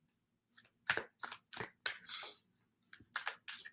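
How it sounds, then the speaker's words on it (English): Oracle cards are shuffled in a quiet indoor setting: a quick series of crisp, papery riffles and flicks in short bursts with brief gaps between them, close and fairly soft. "These cards are still a challenge to shuffle"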